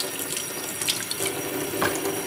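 Water runs steadily from a household tap into a sink as a hand is rinsed, a continuous broadband splash with slight shifts as the hand moves through the stream.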